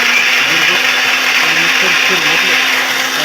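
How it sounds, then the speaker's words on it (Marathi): A mixer grinder grinding crab claws with a little water whirs loudly and steadily, a continuous high-pitched grinding drone running throughout without a break. "ह्या मिक्सरमध्ये त्या पाकड्या टाकल्या त्याच्यामध्ये थोडंसं पाणी टाकलं"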